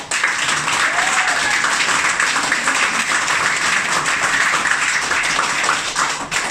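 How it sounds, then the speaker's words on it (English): A training-event audience claps together in a steady, dense burst that fills the room for the whole stretch, with some shouting mixed in. "Come on, let's clap our hands."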